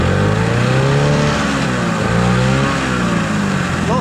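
A 1989 15 hp Gamefisher outboard motor, running a little rich, idles steadily just after starting, a loud, close, continuous buzzing drone with a slight wavering pitch and no speech.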